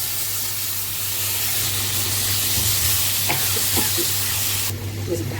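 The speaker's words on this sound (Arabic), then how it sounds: "مع فص الثوم، تشويحه بسيطه بس" Garlic and tomato paste sauté in a pan, giving a close, continuous sizzle with a few light stirring taps and scrapes.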